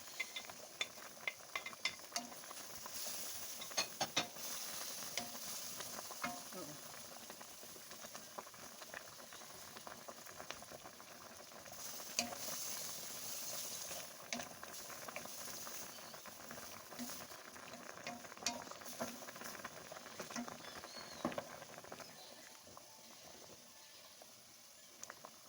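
Mushrooms go into a pan for a creamy tuna pasta with a steady bubbling sizzle, while a utensil scrapes and stirs in irregular clicks and pats throughout.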